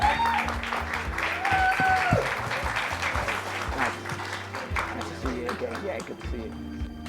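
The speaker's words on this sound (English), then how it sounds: "Yep, round of applause" A conference audience applauds at an event on inclusive growth in Africa, continuous crowded clapping lasting several seconds under and around talking voices.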